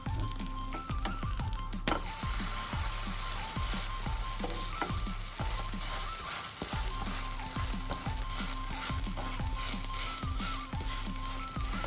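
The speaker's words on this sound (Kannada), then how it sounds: "ಎರಡು ಸೈಡ್ ಕೂಡ ಚೆನ್ನಾಗಿ ಬ್ರೌನ್ ಆಗೋವರೆಗೂ ಫ್ರೈ ಮಾಡೋಣ." Wheat flour breakfast patties sizzle steadily in oil in a pan, a dense close frying hiss with occasional soft ticks and scrapes throughout, no voices.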